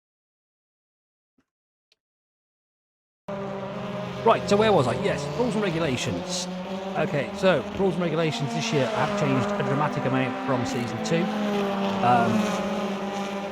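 Front-wheel-drive hybrid race cars running during touring car pre-season testing, with a steady engine drone and passing revs behind someone talking, after about three seconds of silence.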